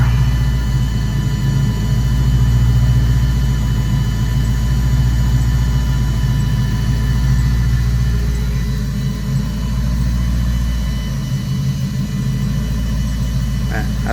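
A car fitted with dumped Flowmaster 50 exhausts rumbles loudly and steadily up close, its deep low idle drone holding throughout with slight revving swells.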